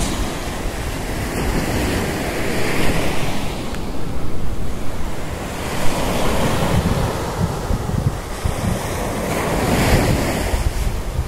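Sea waves roll and break steadily on a rocky sandy shore at Khola Beach, a loud continuous wash with gentle swells and wind buffeting the microphone, no voices.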